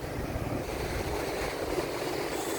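Constant wind rushing and buffeting the microphone outdoors on a beach in Romblon, Philippines, with a broad roar like surf underneath, loud and unbroken.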